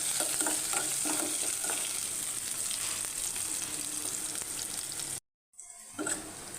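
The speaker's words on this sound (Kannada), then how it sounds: "ಈರುಳ್ಳಿ ಸ್ವಲ್ಪ ಬಾಡ ತನಕ ಕೆಂಪು ಆಗೋ ತನಕ ಫ್ರೈ ಮಾಡ್ಕೊಳ್ಬೇಕು." Chopped onion sizzles in oil with cumin and mustard seeds, a dense, even hiss with soft stirring scrapes, close and steady, then a short dropout before the frying resumes.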